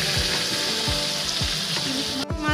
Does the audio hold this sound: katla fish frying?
yes